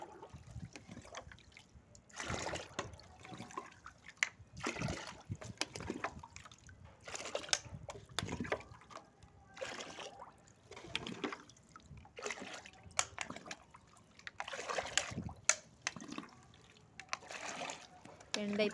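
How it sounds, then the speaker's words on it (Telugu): Water being poured into a bucket and stirred into organic plant fertiliser, giving irregular splashing, sloshing and trickling bursts close by, with a person talking intermittently over the mixing. "ఇప్పుడైతే నేను వాటర్ మిక్స్ చేస్తున్నాను."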